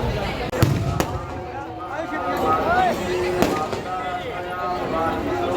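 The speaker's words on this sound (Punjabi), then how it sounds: "ਆਤਿਸ਼ਬਾਜ਼ੀ ਹੋ ਰਹੀ ਹੈ" A few scattered fireworks pops and bangs go off over a steady background of crowd noise and voices at a Sikh religious fair.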